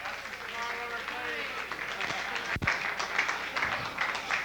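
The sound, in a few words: audience applause for Tony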